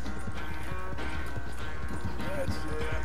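Rhythmic hoofbeats of a galloping horse in Red Dead Redemption 2, quick and steady, with a brief neigh and someone talking over them.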